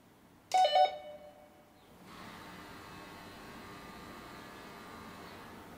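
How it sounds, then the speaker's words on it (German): A Nuki Opener smart intercom rings: a short, loud two-tone doorbell chime sounds once, then fades into a steady low hum. "Es hat geklingelt, wurde die Tür geöffnet."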